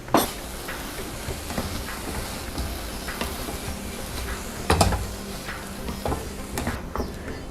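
Chopped carrot and beans sautéed in a pan, with spatula scrapes and clinks against the metal over a faint, low sizzle. The sound is close and fairly quiet, with irregular strokes and no speech.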